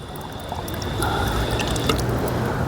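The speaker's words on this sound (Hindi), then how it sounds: "ये इस तरह से पानी आता है बटन दबा के। तो मैं अपनी बोतल भर लेता हूँ" Cold water runs from a push-button drinking fountain in an Almaty park into a bottle, a steady close trickle and splash lasting throughout with no talk.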